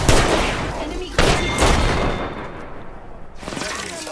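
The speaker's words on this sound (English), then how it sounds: "Bro, how are they getting those nades in here?" Video-game combat fills the scene with grenade explosions and heavy gunfire, a loud, dense barrage of booms and shots that crowds the whole moment before easing slightly near the end.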